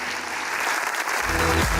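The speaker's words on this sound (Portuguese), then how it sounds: "Aplauda Ele bem forte, que Ele merece" A brief burst of enthusiastic applause from a church congregation, with a voice and low tones coming in toward the end.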